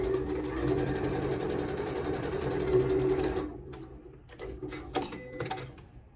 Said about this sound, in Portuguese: Já vou passar uma costurinha aqui.